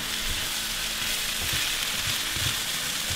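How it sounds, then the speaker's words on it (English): Celery, potatoes and onion frying gently in rapeseed oil in a wok over low heat, a dense continuous crackling sizzle, close and even, with no talking. "just cooking it off with some rapeseed oil on a low heat"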